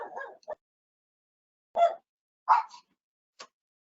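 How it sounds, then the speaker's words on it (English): A dog gives a handful of short, sharp barks in separated bursts, fairly close and clear, with quiet gaps between them and no talking. "The dogs interfere with production, so you just have to take it as it comes."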